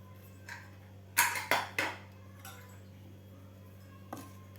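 A pressure cooker lid is lifted off after one whistle, with sambar vegetables cooked inside: a few sharp metallic clanks and clinks in a quick cluster, then a faint clink later over a steady low hum.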